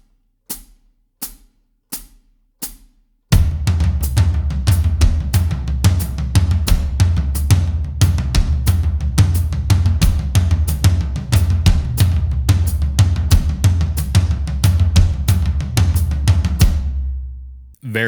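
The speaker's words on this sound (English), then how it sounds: "I'm going to try to over exaggerate the flams with the hands." A few sparse drum hits, then a dense, driving drum groove with heavy low toms and sharp, exaggerated flams, loud and steady until it cuts off.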